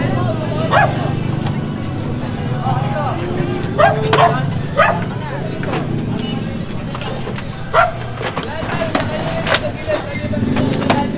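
Scattered short barks and yips come from a dog near a house during a street clearing operation, spaced irregularly and partly buried under people talking and busy outdoor background noise.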